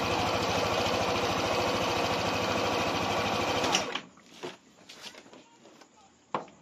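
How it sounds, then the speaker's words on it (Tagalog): A scooter engine fitted with a new CVT belt idles with a steady, fast, rhythmic mechanical chatter and a slight judder for a few seconds, then shuts off, leaving faint talking and light clatter. "mapapansin nyo, hindi naman ganun kalakas yung pagpag niya, pero meron."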